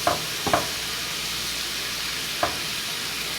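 Flour and meat cooking in a pan for cottage pie, giving a steady soft sizzle throughout, broken by a few brief stirring scrapes near the start and one more later, with no talking.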